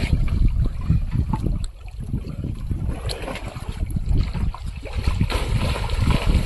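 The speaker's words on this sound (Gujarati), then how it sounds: "સમુદ્ર કી લહેર હો ભાઈ" Sea waves slosh and splash around a small fishing boat out at sea, a steady close rush of moving water with wind noise and no voices.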